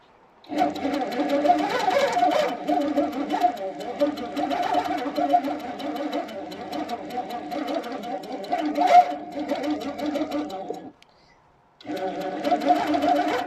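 A sewing machine runs steadily while stitching a free-motion wiggly quilting line, humming close and continuous for about ten seconds, then pausing briefly before starting up again.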